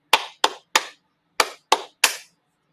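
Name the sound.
hands clapping a rhythm in a music lesson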